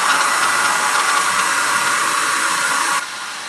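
A hair dryer blows a loud, steady hiss across wet paint on a live wedding painting, then drops to a lower setting near the end, with no voices.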